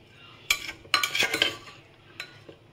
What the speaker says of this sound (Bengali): 2-3 মিনিট এটাকে আমি একটু কষিয়ে নিচ্ছি।